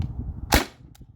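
A modified T4E TR68 marker fires a single 9.88-gram PVC-coated steel ball: one sharp, loud crack with a brief tail, followed by a faint click.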